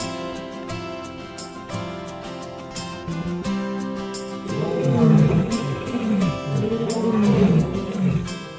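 Lions and hyenas fighting in the South African bush, with deep lion roars and snarls surging louder midway into a chaotic, sustained brawl of growls and cries.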